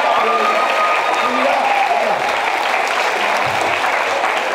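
Comedy club audience breaks into loud, sustained applause during a stand-up set, a steady wash of clapping with scattered whoops and voices mixed in.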